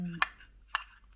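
A spoon stirring a cocoa drink mixture in a cup, giving two or three short, faint clinks against the side with quiet gaps between them.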